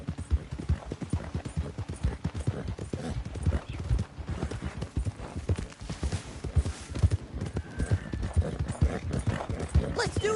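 Horse hooves clip-clopping in the video game Red Dead Redemption 2, a rapid, continuous galloping rhythm up close with occasional voices underneath.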